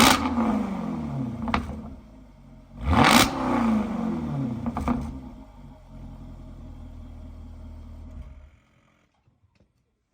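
A rare Jaguar with a 5-liter supercharged V8 revs through its exhaust, a deep rumbling drone rising to a sharp surge around three seconds, then settling back and cutting off near the end.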